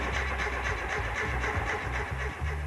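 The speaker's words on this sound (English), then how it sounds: "The Metro engine ran perfectly out in the yard, but now it's been shoved in the boot it doesn't want to know." A Metro car engine crammed into the boot of a mutant push-me-pull-you car build, turning over and struggling to start, with a steady mid-pitched mechanical churn and rhythmic low pulses running continuously throughout.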